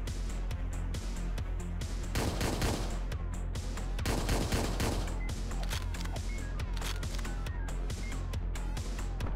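Rapid video game gunfire, with dense bursts of shots in quick succession that stay loud and continuous across the whole stretch.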